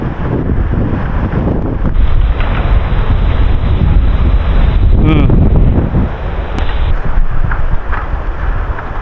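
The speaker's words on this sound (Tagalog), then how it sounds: "Lakas ng hangin no." Strong wind on a mountain trail near the Kang Irag Peak campsite in Sirao roars steadily against the microphone, loud, close and unbroken, with brief voices faintly mixed in.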